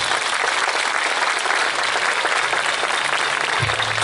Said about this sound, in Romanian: Pornim, dar nu înainte să aplaudăm și pe voluntarii care ne-au ajutat la această ediție.